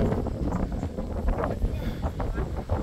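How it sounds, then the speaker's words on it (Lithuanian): Wind gusts at treetop height outdoors in Georgetown, Malaysia, buffeting the microphone with low, uneven rumbling that swells and fades across a few seconds, close and rough. "O, vėjas pakilo"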